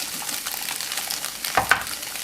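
Egg and cucumber stir-fried in a pan make a steady sizzle with soft scraping stir strokes, ending in two sharper clicks of the utensil against the pan.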